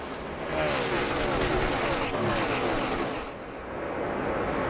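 NASCAR stock cars roar past at high RPM during the 2010 Dollar General 300, a loud continuous engine drone that swells and dips slightly while the cars circle the track.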